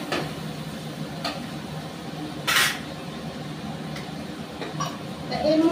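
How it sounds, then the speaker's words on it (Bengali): Spice masala being stir-fried in a pan, a low sizzle with occasional spatula scrapes and a short clatter, under a voice talking throughout. "মশলাটাকে খুব ভালো করে কষিয়ে নেব।"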